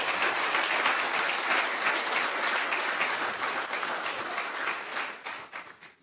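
A church congregation at a service bursts into loud, sustained applause with dense overlapping claps, then tapers off toward the end.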